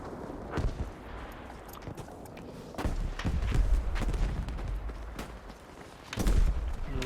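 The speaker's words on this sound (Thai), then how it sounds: "ระเบิดลงต่อหน้าเลย" Battlefield V combat: sharp gunshots and booming explosions punctuate the battlefield, with heavy low thuds near the middle and end amid scattered shots and movement.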